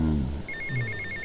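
A mobile phone rings in the GTA Vice City video game: a string of bright, evenly spaced electronic ring pulses, following a brief low voice at the start.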